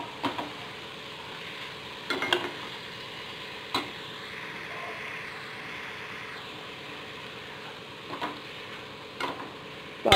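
Masala beans stir-fry being stirred in a pan: intermittent spoon scrapes and clinks against the metal come every few seconds over a quiet, steady sizzle, with no talking.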